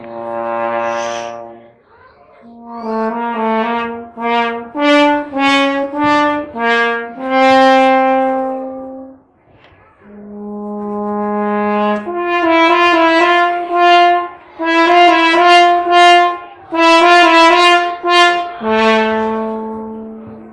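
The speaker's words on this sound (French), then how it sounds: "Écoutez le son du loup." A French horn plays the wolf theme from Peter and the Wolf at a live children's concert, a series of sustained, rich brass phrases rising and falling for about twenty seconds, loud and close, with brief pauses between them.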